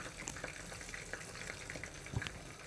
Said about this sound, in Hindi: जब तक हमारा प्याज पक रहा है